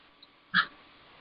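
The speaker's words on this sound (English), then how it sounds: "What happened to the puppy, Linda?" A puppy gives a single short yelp or whimper, loud and close, lasting about a quarter second against a quiet background, with a faint earlier squeak.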